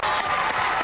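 A short, dense burst of audience applause, loud and continuous, with crowd noise blended in.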